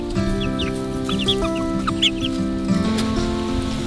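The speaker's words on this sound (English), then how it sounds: "I'm gonna move the big chickens." Chickens clucking amid a farmyard mix of bird sounds, with several short calls scattered over steady harmonic tones and a constant background bed, fairly close and moderately loud.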